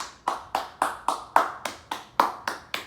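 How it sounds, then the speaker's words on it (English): A single person clapping their hands alone, ten crisp, evenly spaced claps at a brisk steady rhythm, close and clear with a brief ring after each one. "let me give myself a round of applause"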